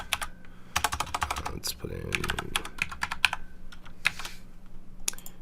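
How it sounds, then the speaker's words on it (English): Rapid, clacky keystrokes on a mechanical computer keyboard come in quick bursts with short pauses, close and crisp, while someone speaks briefly over the typing. "I apologize, I'm using my mechanical keyboard"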